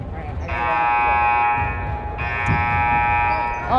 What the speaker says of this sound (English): The alarm is going off. It's very loud.